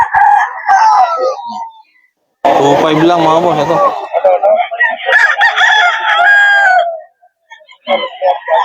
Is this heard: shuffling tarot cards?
no